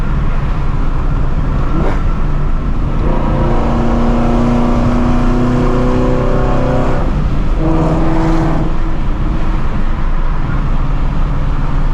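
Shelby GT350 driving with its clutch slipping slightly, a steady loud engine drone with rising revving tones that swell and drop over several seconds, heard from inside the car.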